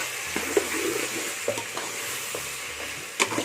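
Tomatoes and onions are sautéed in a pan for mutton biryani, giving a soft, low sizzle with a few scraping stirs and light clinks of a utensil, close and quiet.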